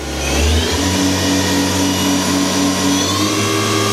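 A Doosan DNM 400 vertical machining center spindle runs steadily at 4,000 RPM, giving a loud, continuous mechanical whine with a steady hum beneath and a faint pulsing, near and unbroken throughout.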